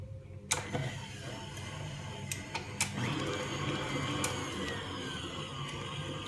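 A stand mixer with a paddle attachment runs steadily as it mixes flour for pizzelle cookie batter, a continuous motor whir with a few sharp clicks and knocks, heard alone at moderate level.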